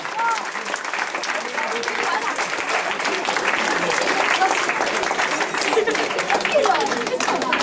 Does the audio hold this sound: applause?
yes